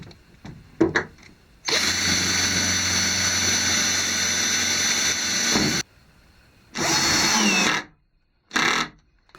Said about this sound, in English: we need to drill pilot holes into the stringers, and then we can drive the screws home